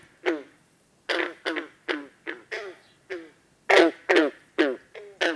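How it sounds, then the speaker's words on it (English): Green frog calls, a series of about ten loud, abrupt twangy gulps like a plucked loose banjo string, spaced irregularly and heard close and alone. "That is a green frog."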